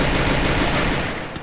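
Sustained gunfire from a gun nest in the mobile shooter Free Fire, a loud continuous rattling burst that stays dense throughout the short moment with no talk.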